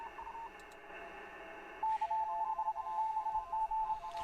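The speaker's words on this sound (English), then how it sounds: "This is CW, guys." Morse code CW signal on a radio, a steady pure tone keyed into a rhythmic run of short and long beeps over a faint hissing radio background.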